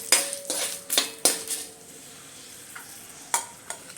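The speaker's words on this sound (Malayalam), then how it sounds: "ഇനി നമുക്ക് 2 കഷ്ണാക്കി ആക്കിയിട്ട് വറ്റൽമുളക് ഇട്ട് കൊടുക്കാം" Dried red chillies fry in a hot pan for a Malayalam piranda chammanthi side dish. A quick series of metal spoon clinks and scrapes rings out close by over a light, steady sizzle, with no talking.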